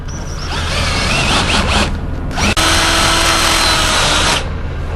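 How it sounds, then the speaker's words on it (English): A power drill whines steadily as it bores a 3/8-inch hole through metal on an Airstream trailer, loud and close, with a brief break midway before grinding on, then stopping near the end. "I'm going to drill that hole 3/8"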